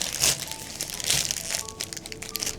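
A plastic sheet crinkles and crackles as it is pressed into a flower basket lined with floral foam, in irregular close, bright rustling bursts with no talking.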